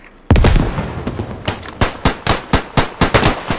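Grenade blast and rapid gunfire in the World War I shooter Beyond the Wire: a sharp loud detonation followed by a string of about ten evenly spaced heavy bangs, close and dominant, with no talk.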